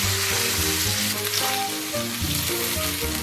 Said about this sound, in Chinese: 简单再给它煸炒一下